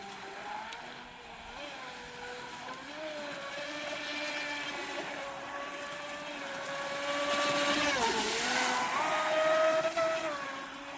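A Proboat Recoil 2 RC boat runs on water after crash repairs, its electric motor whining steadily with rising and falling pitch as it passes, growing louder near the end, with no talk.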